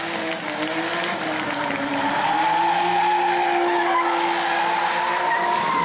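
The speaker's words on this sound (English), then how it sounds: "Zach Curtis burning the tires off that thing" Race car at an enduro event in New Smyrna doing a burnout, with a loud sustained tire squeal and wavering high screech riding over the engine roar, steady and close, with no voices.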